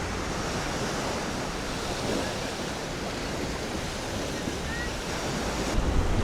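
Steady roar of surf rolling onto Eodal Beach, South Korea, with wind buffeting the microphone throughout and no pause in the wash.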